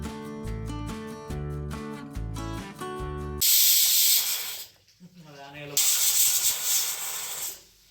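A pressure cooker holding half a cup of washed chana dal in water lets out two loud, sustained hissing bursts of steam, separated by a brief pause and preceded by a stretch of music.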